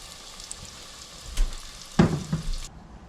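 Battered bluegill fillets hit hot oil in a shallow pan, a soft bubbling fry swelling into a louder burst of sizzle and a couple of clattering knocks before it cuts off abruptly.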